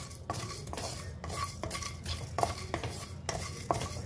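Cardamom pods, cinnamon and cloves stirred as they fry in a pan, with a steady low sizzle broken by repeated scraping strokes of a spoon about every half second, close and fairly loud, no talking.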